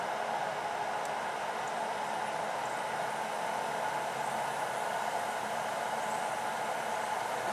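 HHO generator with a stainless steel mesh screen fizzing in electrolyte at about 10 amps, a soft, steady hiss of fine bubbling that stays even and fairly faint throughout with no talk.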